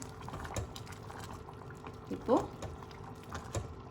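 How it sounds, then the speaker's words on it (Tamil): Tomato sambar with coconut added comes to a boil in a pot, with soft bubbling and a few faint liquid gurgles under low background noise. "நல்லா கொதி வந்துருச்சு தேங்காய் ஊற்றுனது"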